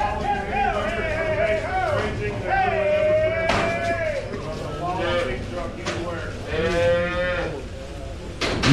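Cattle low repeatedly at a cow-calf pair auction, several long drawn-out moos from cows rising and falling near and far, with people talking underneath in a large, echoing sale barn.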